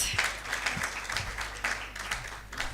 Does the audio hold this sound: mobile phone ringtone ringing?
no